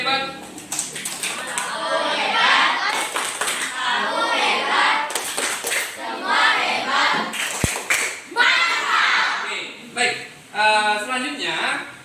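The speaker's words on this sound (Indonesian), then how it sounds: "Nah, baik, tepuk hebat." Schoolchildren in a classroom clap together in a short rhythmic cheer, loud and close, with children's voices and a teacher talking over and around it.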